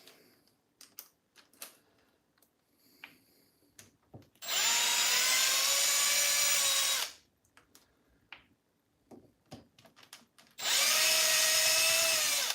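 Power drill fitted with a 2.5 mm bit working on Losi 5ive 5T outdrives during a brake fitting, two sustained whining bursts of a few seconds each, close and loud, separated by quiet handling clicks.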